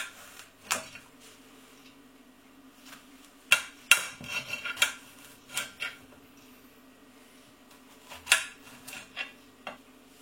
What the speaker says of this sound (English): Then I'm going to cut it into each one into 3.